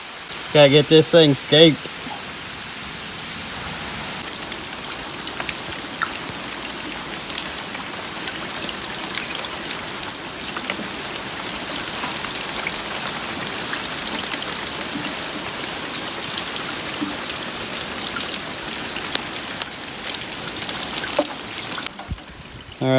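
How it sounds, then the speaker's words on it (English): Steady rain pours down in a rainforest beside a creek, a dense, even hiss of drops pattering on leaves and water that runs unbroken from start to finish, with someone speaking briefly at the beginning. "you can't be in the rainforest without a random rain"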